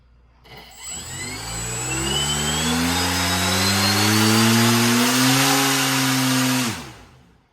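An autonomous RC boat's electric motor spins up to full throttle, a rising whine that holds a loud steady buzzing drone for several seconds before cutting off, close and without talk.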